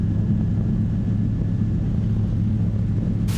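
Light Sling aircraft descending on landing approach at about 80 knots, a steady low engine and propeller drone with wind rumble, continuous and fairly loud throughout, no voices.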